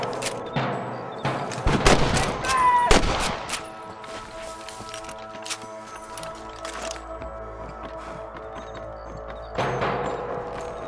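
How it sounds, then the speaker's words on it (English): Gunfire in the Western video game Red Dead Redemption: a burst of sharp, loud shots early on, then sparser distant pops over a droning score, with another cluster of shots near the end. "I can hear more gunshots."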